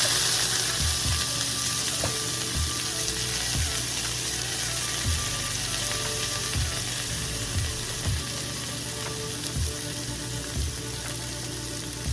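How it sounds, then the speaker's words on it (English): Dried beef frying in a pan after tomato and lemon juice go in, giving a quiet continuous sizzle with regular soft thumps and taps from stirring at an even pace. "So now it's time to add tomato, a little bit of fresh lemon juice"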